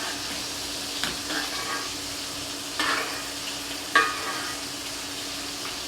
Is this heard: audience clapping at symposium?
no